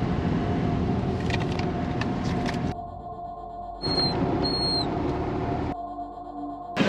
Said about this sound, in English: we're off the minibus into this tuk-tuk thing